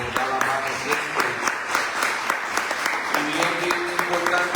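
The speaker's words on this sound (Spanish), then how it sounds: "que pide un aplauso" Applause from the audience at a university history lecture in Puerto Rico, continuous clapping with a voice talking over it throughout.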